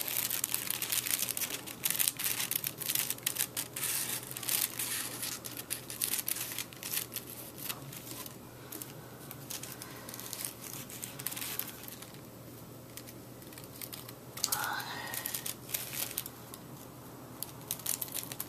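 Scissors crunch and rustle steadily through fabric or a paper dress pattern while sewing a 1955 Simplicity dress, a dense, close patter of cutting and crinkling that continues throughout.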